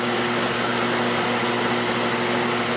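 A metal lathe makes its final cutting pass on round stock while building a toolmaker's vise, a steady close whirring hum with a constant motor whine and broadband cutting noise, no voices.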